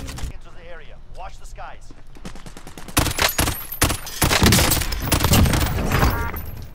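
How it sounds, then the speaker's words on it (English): FAMAS rifle fire in the battle royale game Warzone, rapid bursts of loud close shots that thicken into dense gunfire after a few seconds, with a person talking over the game sounds at the start. "I love the Famas."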